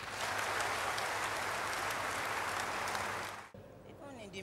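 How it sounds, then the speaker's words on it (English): A church congregation claps for Jesus Christ during a faith service, producing a sustained wash of applause that stops abruptly, followed by a faint voice speaking. "Clap for Jesus Christ."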